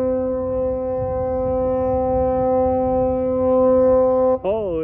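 A loud boat horn blasts as a long, steady tone with a strong fundamental and stacked harmonics, sounding nearly alone for over four seconds before it bends and cuts off near the end.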